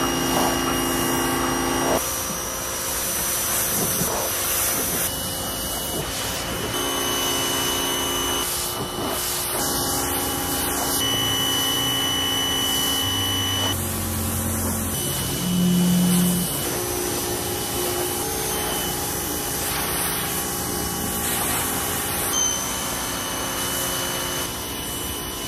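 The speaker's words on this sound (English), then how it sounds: "I have my little mini pressure washer. We're going to see if we can pressure wash this motorhome." A small mini pressure washer runs in a continuous steady whine and hiss while spraying a motorhome outdoors, loud and close with slight shifts in pitch, no talking over it.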